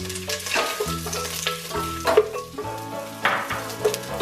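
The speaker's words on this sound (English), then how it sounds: "Add oil. Add onion." Chopped onion frying in hot oil in a pan for Indonesian oxtail soup, a steady close sizzle with crackling bursts and occasional stirring scrapes, no voices.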